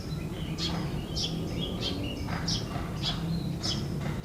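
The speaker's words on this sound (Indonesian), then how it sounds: "apakah Bapak Ibu mendengar kicauan burung sama seperti saya mendengarkan saat ini?" Birds chirp in repeated short bright calls, roughly two per second, fairly close over a steady background hum, with no talking.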